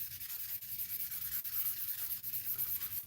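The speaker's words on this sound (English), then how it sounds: "so I've sanded it all around" Sandpaper rubs around the surface of a ring being prepared for acrylic pouring, making a close, continuous rasping scrub with rhythmic back-and-forth pulses.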